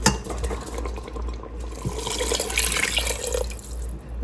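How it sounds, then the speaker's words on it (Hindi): Water pours steadily into a cooking pot of lentils, a close, continuous splashing and gurgling with a low hum underneath and faint clinks of the pot. "हम 2 कप ही वाटर ऐड करेंगे"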